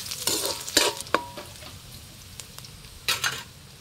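Garlic sautés in a pan with a low sizzle, punctuated by several bursts of stirring and scraping, near and moderately quiet, with no voices.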